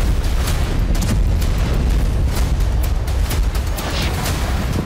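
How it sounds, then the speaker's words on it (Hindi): Dense, continuous low rumble with repeated dull booms and thuds of bombing explosions across Beirut, rolling over one another without pause. "बेरूत के अलग अलग इलाकों में रह रहकर विस्फोट हो रहे हैं।"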